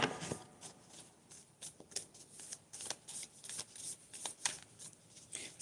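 Tarot cards are shuffled by one hand in quick, uneven riffling bursts, soft and close, with brief pauses between the flurries of papery snaps.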